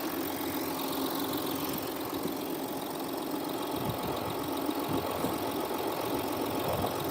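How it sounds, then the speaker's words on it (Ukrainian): A 2014 Audi Q5 3.0 diesel engine idles steadily up close, a constant low rumble with a faint rhythmic knock and no voices. "Двигун робить зараз добре."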